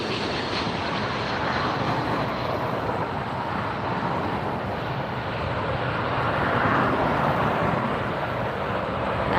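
A Delta Boeing 767-300ER widebody airliner arriving at LAX from JFK, a steady broad engine roar that swells slightly toward the end, fairly loud and close with no voices.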